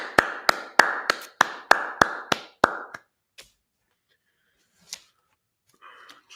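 A congregation at a Sabbath service claps in a quick run of about ten sharp, evenly spaced claps, then falls almost silent except for a couple of faint stray taps.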